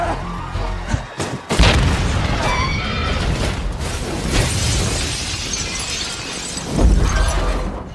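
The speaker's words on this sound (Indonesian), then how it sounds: "sebelum akhirnya bom itu meledak dengan aman" A bomb explodes in a film scene, a loud, close blast with shattering debris and rumbling crashes, followed by a second heavy boom near the end.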